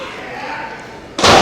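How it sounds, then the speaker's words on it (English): Wrestler driven to the mat by a swinging neckbreaker at a live pro wrestling show, a sudden loud slam that cuts through steady crowd noise and commentary. "Oh man, swinging neck breaker."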